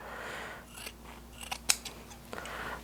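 Scissors snip through the fabric of a 15th-century Italian Renaissance gown, with several close, sharp cuts falling in an uneven rhythm and one crisp snap standing out above quiet room tone.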